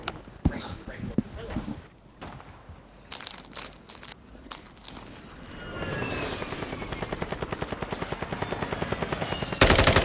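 Call of Duty gunfire, scattered sharp shots early, then a sustained rapid burst of automatic fire building toward the end, with people talking over it.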